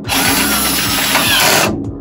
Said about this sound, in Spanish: en el taladro puedes ponerle una fuerza, por ejemplo, le vamos a poner 1